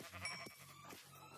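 Sheep in Minecraft bleat twice in quick succession, short wavering calls heard close and fairly quiet, with no talking.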